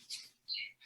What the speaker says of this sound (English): Well, if you can hear my birds,